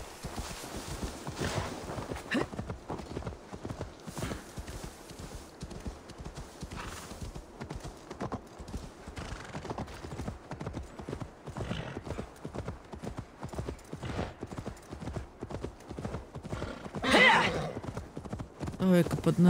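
A horse's hooves clip-clop steadily in the video game Assassin's Creed Valhalla, a brisk, regular rhythm throughout, with a whinny near the end and a voice talking over it.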